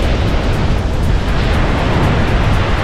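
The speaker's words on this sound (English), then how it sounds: "Mark has got us to the top of Moon Falls" Loud, dense roaring rush of water at the top of Moon Falls, where the flow is low, a steady broadband wash close to the microphone with some wind buffeting.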